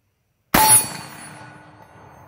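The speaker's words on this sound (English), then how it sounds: "Let's test it with a slug." A 12 gauge slug fired from a Firequest Pitbull round strikes a steel target, a single sharp loud clang after brief silence, ringing out and slowly decaying, with no talk.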